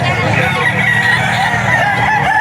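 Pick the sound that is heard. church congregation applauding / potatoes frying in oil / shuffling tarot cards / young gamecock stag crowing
young gamecock stag crowing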